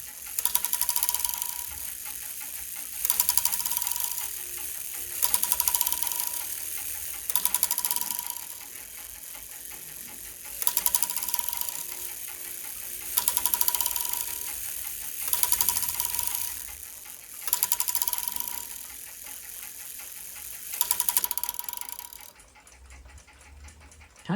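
A Waltham 31-day chime regulator clock movement runs in repeated bursts of mechanical ratcheting and gear clatter, each lasting a couple of seconds with short gaps between, close and fairly quiet, with no voices.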